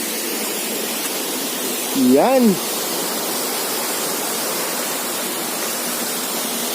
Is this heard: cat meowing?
no